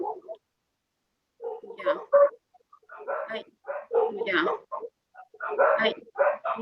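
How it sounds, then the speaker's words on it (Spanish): Several dogs barking somewhere nearby, sharp repeated barks in irregular bursts coming through an online call, with gaps of quiet between them. "Escucho más unos perros por ahí."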